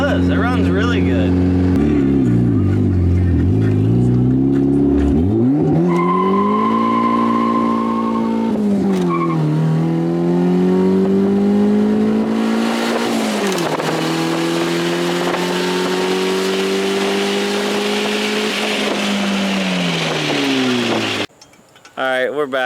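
A Honda Civic fitted with a new EMUSA turbo from eBay runs close by and loud, its engine revving up and down in steady swells for about twenty seconds before briefly cutting out near the end.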